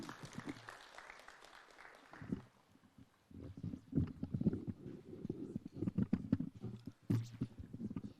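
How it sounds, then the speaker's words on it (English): At a Kenyan event on Facebook content monetisation, an audience claps faintly and unevenly as someone walks up, with scattered hand claps over low crowd murmur and bumping noise. "We can clap for him as he's coming."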